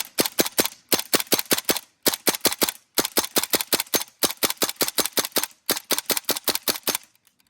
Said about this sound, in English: empty a mag full of BBs on semi and full auto without any jams